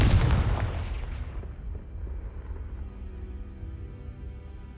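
A Confringo spell blast from the video game Hogwarts Legacy: a loud explosive boom that rings out and decays into a long rumbling tail, with no talk.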